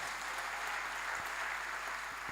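A church congregation applauding during a bishop's sermon, heard as a faint, steady wash of clapping that continues throughout.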